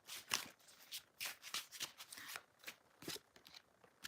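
Tarot cards being shuffled by hand: repeated riffling, slapping bursts in an uneven rhythm, close and soft, with no talking over them.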